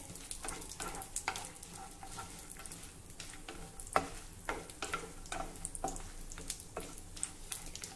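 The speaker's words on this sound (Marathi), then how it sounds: "तूप गरम झालं की त्यामध्ये काजू आणि बदामचे तुकडे घालूया आणि हे आपल्याला थोडे परतवून घ्यायचे आहे।" Cashew and almond pieces roasting in hot ghee in a pan, a quiet steady sizzle broken by repeated clicks and scrapes as the nuts are stirred.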